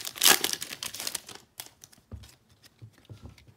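A pack of 2021 Mosaic football trading cards is torn open with a burst of close crinkling wrapper noise, then softer rustles and card handling.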